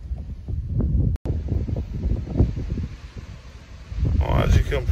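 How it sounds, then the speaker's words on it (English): Strong outdoor wind buffets the microphone in a steady low rumbling roar during showery weather around a car being worked on for a clutch change, with a brief dropout and a gust swelling toward the end. "the weather's not very clever. It's windy as fuck."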